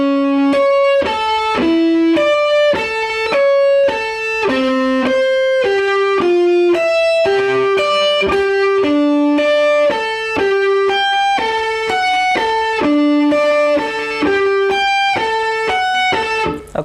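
Electric guitar slowly plays an opening riff, a loud, distorted, sustained run of single notes in a looping pattern, alone with no talking.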